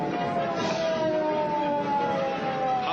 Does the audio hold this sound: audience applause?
no